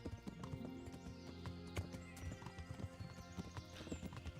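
A horse's hooves clip-clop in a galloping rhythm in the medieval video game Kingdom Come: Deliverance, steady close thuds with a brief whinny and soft ambient game sound behind them.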